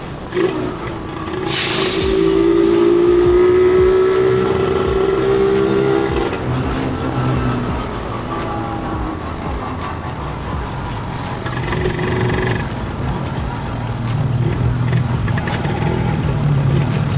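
A Yamaha 125ZR two-stroke motorcycle running on a standard exhaust, revving up to a loud, rising buzz that then holds at a steady, close drone before easing back and climbing again.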